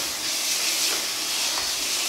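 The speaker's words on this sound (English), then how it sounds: "first step is we're gonna throw our beef up in that pan" Ground beef sizzling in a pan gives a dense, steady close hiss with no breaks, alone and without talk.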